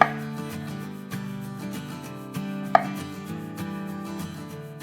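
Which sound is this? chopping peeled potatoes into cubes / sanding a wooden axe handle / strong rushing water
chopping peeled potatoes into cubes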